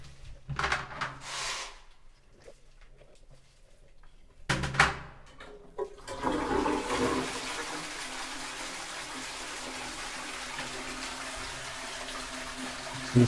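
A toilet flushes with a rushing gush of water that settles into a steady refill flow, following some earlier bursts of running water and clatter.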